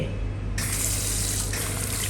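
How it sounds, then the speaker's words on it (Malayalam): Water gushes from a tap, starting as a softer trickle and then surging into a fuller, steady stream that runs close by for the rest of the moment, with no talking. "ആ കാട്ടുമ്പോൾ വെള്ളം വരുന്നുണ്ട്"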